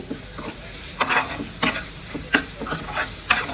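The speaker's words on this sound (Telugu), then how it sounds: "వేసిన మసాలా అంతా బాగా వేగాలి" Masala for tomato rice fries in a pan, sizzling steadily while a spoon stirs it in sharp, repeated scraping strokes roughly every half second to second, close and clear with no talking.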